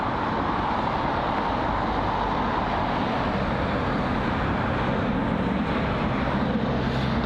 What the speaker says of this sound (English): See reverse thrusts most likely on as well. See British Airways A320neo. That's arrived from Geneva.